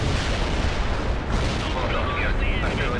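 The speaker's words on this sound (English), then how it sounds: "Get some artillery down here." Artillery barrage rumbles through the video game World in Conflict, with dense continuous booms and explosions rolling under a voice talking over the top.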